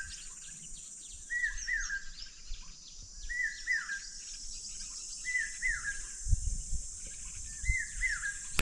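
A common hawk-cuckoo calls from a mango tree, repeating a rising three-note phrase four times at even intervals, moderately distant over faint insect hum and light background noises.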